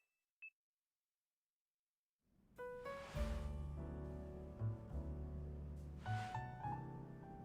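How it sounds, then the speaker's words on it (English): An obnoxious alarm blares loudly and steadily with layered electronic tones, swelling in pulses after a single brief beep and a short silence. "we're stuck with this stupid alarm sound"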